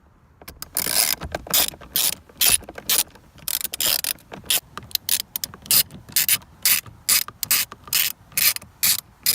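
A ratchet removes the 7mm bolts holding the door mirror on a newer Chevy Silverado truck, with loud, close bursts of rapid clicking that start and stop again and again, and no talking.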